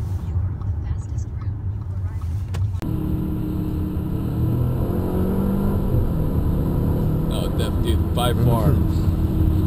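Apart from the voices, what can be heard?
Audi A4 with APR Stage 1 tune accelerating, turbo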